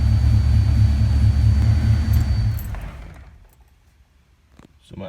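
A Foxbody Ford Mustang engine idles high with a steady low rumble for about three seconds, then drops away and goes nearly quiet before a brief return at the end.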